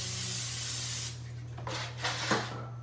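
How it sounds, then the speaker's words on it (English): Cooking spray hisses onto a baking pan for sourdough cinnamon rolls in a home kitchen, a few short close bursts over a steady low hum, with no talking. "I'm going to spray that pan."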